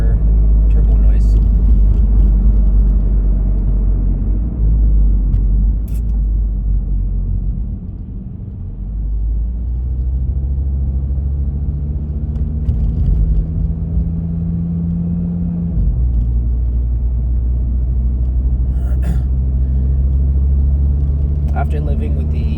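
An Audi RS3 with a Stage 2 E85 tune cruises in comfort mode, giving a low, steady engine rumble with faint turbo whoosh, while someone talks over it.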